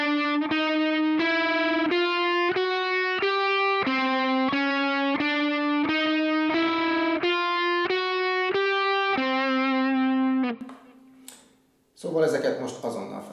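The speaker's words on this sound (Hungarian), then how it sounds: "Gyakori hiba még, amikor húrváltásnál az egyik hang tovább tart, azaz két hang szól egyszerre." Distorted electric guitar playing a steady run of single notes in an even rhythm, each note ringing into the next as strings change, close and clear before a brief noisy burst at the end.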